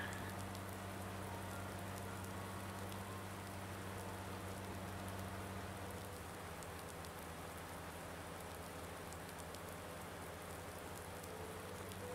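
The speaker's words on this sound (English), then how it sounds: "it's starting to rain" Steady, even rain hiss from Farming Simulator 19 on the Erlengrat map, a dense continuous wash with low engine-like hum underneath, heard alone without talk.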